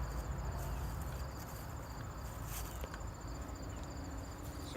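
Honeybees swarm around an open hive being smoked during an inspection, making a steady dense buzzing drone that holds at an even level throughout, close and continuous, with no voices.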